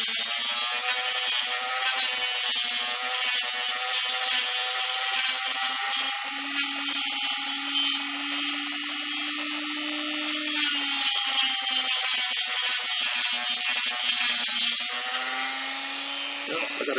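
A 3D printed PLA tungsten sharpener grinds a tungsten electrode up close, giving a steady, continuous whirring grind with a mechanical rattle that holds for the whole stretch.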